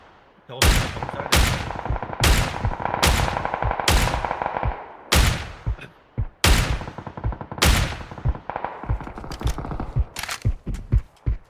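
Rapid bursts of gunfire from the battle royale shooter PUBG, loud repeated volleys of sharp shots separated by short pauses, with echoing tails and faint talk between the bursts.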